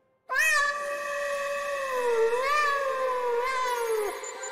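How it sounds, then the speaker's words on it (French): High cat meows and shrill trills play from computer speakers, a loud continuous run of rising and falling mewing calls lasting several seconds with no talk over it. "les haut-parleurs reliés à l'ordinateur émirent un chuintement de trilles aigus et de miaulements"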